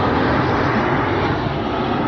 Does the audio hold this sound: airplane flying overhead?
yes